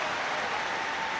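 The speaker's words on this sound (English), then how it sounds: "Rapturous applause from all in Stamford Bridge as the 2 sets of players take the knee ahead of kick-off" Broad, steady wash of applause from the crowd at Stamford Bridge before kick-off of a Chelsea v Liverpool women's football match, dense and continuous throughout.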